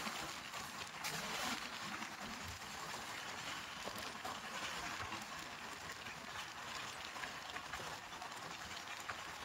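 Passenger train running on an electrified railway line between stations, heard from inside as a continuous rumbling roll with faint rhythmic rail clatter, steady and fairly quiet throughout.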